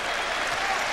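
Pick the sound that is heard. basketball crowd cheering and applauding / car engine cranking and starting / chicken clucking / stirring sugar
basketball crowd cheering and applauding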